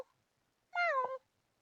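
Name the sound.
person imitating a cat meowing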